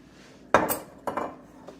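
A metal baking pan is handled for bread dough in a home kitchen, giving two sharp clattering knocks of metal with a faint third touch, close by and without talk.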